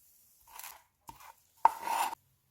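Knife dicing mango on a cutting board: three close, crisp chopping strikes spaced unevenly, the last one longer with a scraping follow-through, in an otherwise quiet kitchen.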